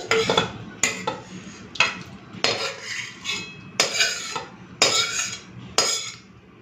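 Dry potato and pointed gourd curry is scraped and tipped out of a pan with a metal spoon, a series of sharp clinks and scrapes in a steady rhythm, close and clear, with no talking.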